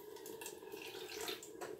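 Cold water runs in a faint, steady trickle and pours into chili paste while prawns are being prepared, a soft, continuous liquid sound with no talking.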